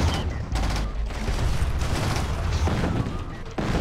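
Gunfire from a battle in the real-time strategy game C&C Tiberian Sun, a dense continuous fusillade of shots and booms filling the clip with a loud rolling clatter.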